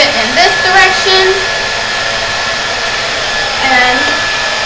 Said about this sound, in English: I flip the blow dryer back here and flip it in this direction.